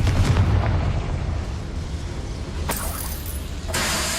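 A Confringo fire spell blasts in Hogwarts Legacy, a loud rumbling burst with heavy low-end boom that keeps rolling, followed by two sharp crackling impacts near the end.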